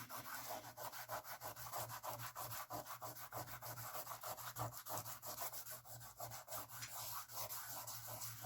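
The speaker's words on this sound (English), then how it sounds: "you can go back in and rub out your masking fluid." Dried masking fluid being rubbed off watercolor paper: a close, quiet, continuous rapid back-and-forth rubbing scratch with a steady rhythm and no talking.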